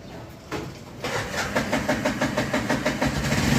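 A stuck vehicle's engine revs hard in reverse gear, a close, loud, throbbing pulse that rises steadily in speed and intensity after an initial catch.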